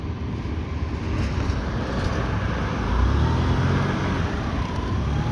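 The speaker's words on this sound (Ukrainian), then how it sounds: "Двигун працює тихо, без посторонніх шумів." A fuel-injected Honda Dio AF68 scooter engine, imported from Japan, runs quietly at idle with a steady, even low rumble throughout and no other prominent noises.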